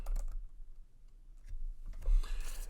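Keys tapped on a computer keyboard while setting up the PyCharm code editor on a Mac, a few scattered clicks then a quicker burst of typing near the end, close and fairly quiet with no talking.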